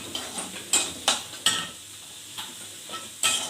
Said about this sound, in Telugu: ఇది జీలకర్ర ధనియాలు కలిపి చేసిన పొడి ఒకసారి కలిపేసుకొని స్టవ్ ఆఫ్ చేసేసుకున్నాం